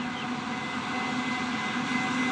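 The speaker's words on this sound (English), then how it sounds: "Glencore locomotives passing. It's a coal train." Glencore coal train locomotives passing through a station platform at Maitland, a steady loud rumbling roar of engines and wagons that stays constant throughout.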